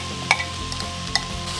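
Chopped onion and garlic sizzle in butter in a pan, a steady close frying crackle with a couple of sharp utensil clinks from stirring.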